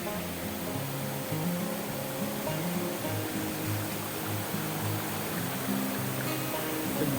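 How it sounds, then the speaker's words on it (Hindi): A waterfall beside a Shiv cave temple rushes in a steady, dense roar that holds at an even level throughout, with no talk over it. "वाटरफॉल के पास पहुँच चुके हैं।"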